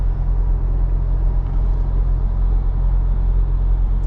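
Exhaust note of a Roush Ford Ranger pickup, heard from inside the cab while driving on a hot Virginia day: a steady, deep, droning rumble that stays constant and fairly loud throughout, with no talk.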